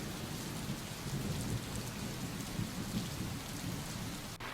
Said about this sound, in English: maybe if I turn off the rain effect before you save and turn it on when you reload